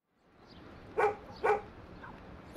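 A dirty dog that needs washing gives two short, clear barks about half a second apart, moderately near, over a faint background hiss.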